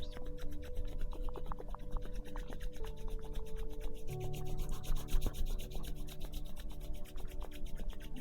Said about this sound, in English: Start to slowly rub your hands together, building up heat between your two palms.